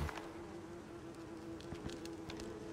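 In the survival game Icarus, a bee hovers nearby deep in a cave, giving a steady insect drone with small wavering surges, constant and clear for a few seconds with nothing else over it.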